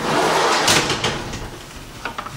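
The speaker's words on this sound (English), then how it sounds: "shut the door" A door is shut at an air base flightline workspace, a dull rushing sweep followed by a couple of small knocking clicks as it closes, heard nearby with no speech.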